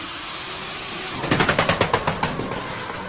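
A drift car at the Red Bull Car Park Drift event in Oman, 2015, fires off a rapid burst of loud popping bangs over constant broadband engine and tire roar, the pops coming in an even staccato series before easing off.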